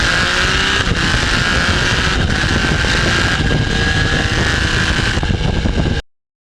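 A Yamaha MT-09 motorcycle ridden around a lake, a continuous loud engine drone with steady wind rush over the microphone, holding an even pace for about six seconds before cutting off abruptly.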